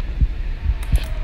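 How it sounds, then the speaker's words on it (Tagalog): A deep, muffled heartbeat thumps in Garry's Mod, three low throbs over a steady hum, loud and close with no talking. "Nasaan yung heartbeat? Nara dito ay!"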